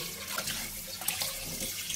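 Steady running water splashing over fish being washed in a sink, a continuous close rush with small irregular spatters.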